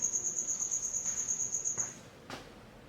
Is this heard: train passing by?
no